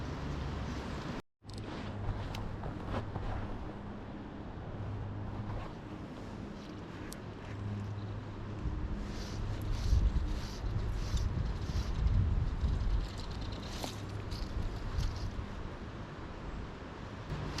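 Strong wind blows by a trout river, a continuous rumbling buffet with gusts that swell and ease, loud and close throughout.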